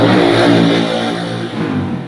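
Motorcycle engine revving loud and close, a steady rumbling drone with a slight dip midway, no talking.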